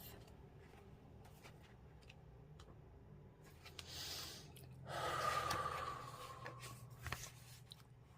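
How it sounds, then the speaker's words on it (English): A slow, deep breath is drawn in and released, soft and close in a quiet room, with a faint rustle or tick around it. "Take a deep breath."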